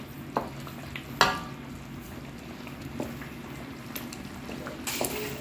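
A chicken pochero with tomato sauce is stirred in a pan, giving soft scraping and a faint sizzle with a few sharper utensil clacks against the pan.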